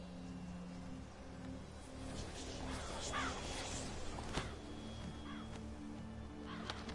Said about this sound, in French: C'est quoi ça? Un corbeau.